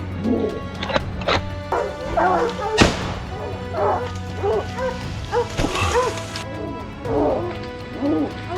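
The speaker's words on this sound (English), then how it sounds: "The dogs had been barking non-stop somewhere in the forest." Hunting dogs barking repeatedly in a forest during a wild boar hunt, a series of uneven barks and yips at middle distance, mixed with a sharp crash and thuds.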